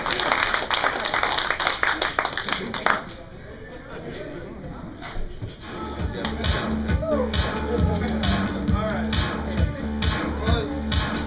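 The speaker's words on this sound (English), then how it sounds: "Round of applause for that crappy musical." A crowd applauds after a musical performance with loud, dense clapping for about three seconds. The clapping gives way to voices and background sound.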